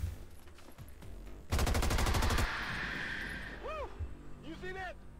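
Sustained gunfire from XCOM 2 during a jungle haven defense against the Hive, a dense rapid burst of shots lasting about a second, loud and close, followed by alien chirping calls and game ambience with talk nearby.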